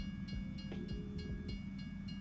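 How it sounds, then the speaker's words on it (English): A train approaching in a logging video game in winter, a steady low rumble with rhythmic rail clatter and faint tonal whine, fairly quiet and continuous. "Hit the brakes. Train coming."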